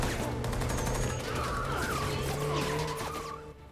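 Gunfire at a speeding car in the film Wonder Woman 1984, rapid shots crackling under roaring engines and squealing tires, with a dense blended action mix and no talking.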